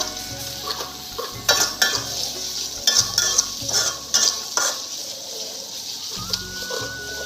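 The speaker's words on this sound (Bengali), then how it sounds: "এখন লাড়াচাড়া চলছে বন্ধুরা" Chicken and fried onions stirred in a pan, with a steady sizzle under repeated scraping and clanking strokes of a utensil against the metal.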